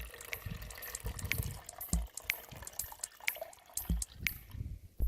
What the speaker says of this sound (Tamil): அந்த தண்ணியை மட்டும் வடிச்செடுக்கணும்